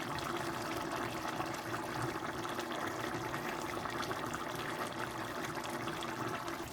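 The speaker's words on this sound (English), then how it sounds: "my oxtail is boiling down to gravy" Oxtail boils down to gravy beside a pot of Jamaican rice and peas, a steady bubbling and hissing simmer that stays even and close throughout, with no voices.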